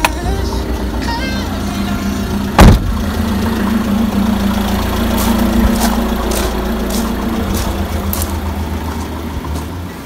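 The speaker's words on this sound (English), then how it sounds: "The van just idling there" A Citroen Relay camper van engine idles with a steady low rumble, broken by a single sharp knock early on.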